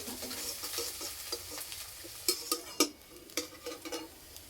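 Chopped onion and green chilli fry in oil in a kadai, a soft, steady sizzle broken by sharp clinks and scrapes of stirring.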